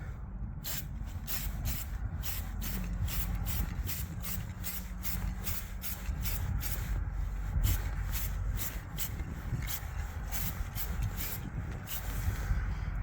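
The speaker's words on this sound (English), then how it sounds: "Now we're gonna spray it." Spray paint hissing from an aerosol can onto the rocker panel of a 2014 Ford F150 in repeated short bursts, steady and close for the whole stretch with no talk.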